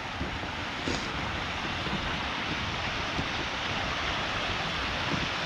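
Steady rushing water fills the scene, a continuous broadband wash like a flowing stream, even in level throughout with no voices.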